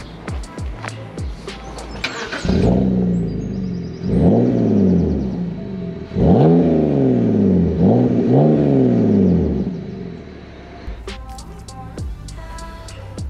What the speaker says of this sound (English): I'm gonna do a cold start so you guys can remember what this car sounds like.